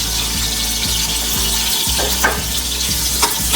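Onion, garlic and whole black pepper browning in hot oil in a pan for mutton yakhni pulao, a loud, steady sizzle and crackle with periodic scraping of a spoon stirring through it.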